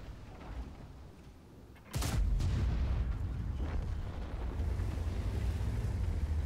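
A tank cannon fires once in World of Tanks, a sudden heavy boom followed by a rumbling tail over a low engine drone.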